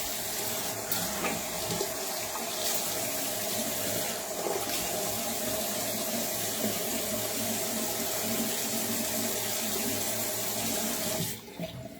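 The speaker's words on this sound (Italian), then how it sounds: "mi bagno il viso" Bathroom tap running steadily into a sink while the face is wetted before a wet shave, a continuous close splashing rush that stops abruptly at the very end.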